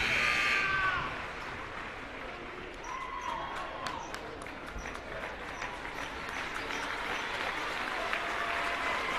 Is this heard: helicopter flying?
no